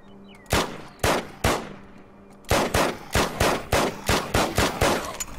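Video-game gunfire from a full metal jacket weapon: three separate sharp shots, a pause, then a quick rhythmic burst of about eight close, loud reports.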